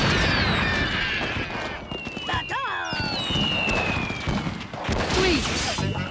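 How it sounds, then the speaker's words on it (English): Cartoon fireworks bursting and whistling in an animated alien-invasion comedy, a dense crackling barrage with rising whistles and pops, loud and continuous, with characters shouting over it. "Yay! Fireworks!"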